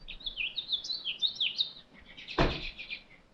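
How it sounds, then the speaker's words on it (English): Several birds chirp and twitter near a back porch, a busy run of high, quick calls, then a short thump like a door before more faint chirps. "This is why I like sitting on this back porch, because all the birds are all hanging out. You can hear them all."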